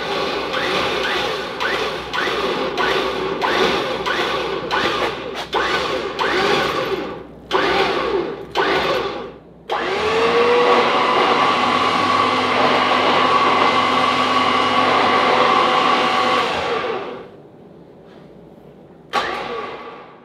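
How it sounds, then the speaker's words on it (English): An electric winch with a snatch block and axle straps lifts a PSC SG688 XD2 big-bore steering box. Loud, close motor whirring comes in short repeated pulls, then one long steady run, then a brief final burst. "Then using my winch and a couple axle straps, I lifted the new box up and dropped it into position."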